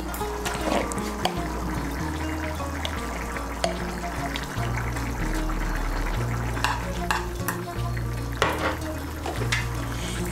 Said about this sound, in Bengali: ঘি আর গরম মশলার গুঁড়োটাকে ভালো করে মিশিয়ে নেব।